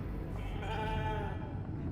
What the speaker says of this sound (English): Oh, let's pet the sheep.